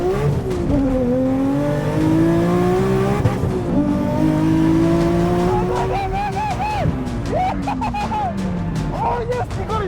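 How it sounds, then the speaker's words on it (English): A 950-horsepower Nissan S15 roll-races a BMW: loud, sustained engine drone with rising gear-by-gear pitch sweeps and repeated shifts, close and continuous, with people talking over the engines. "950 horsepower S15 versus a BMW."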